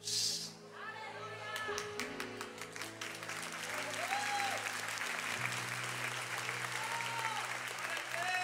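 Applause rises from a congregation at a church service and continues steadily over sustained keyboard or organ tones, with faint voices mixed in.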